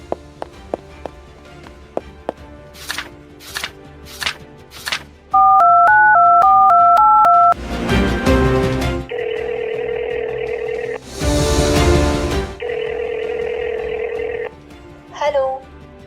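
Phone keypad tones beep in quick succession, followed by a warbling ringtone that repeats between bursts of noise, fairly loud and close.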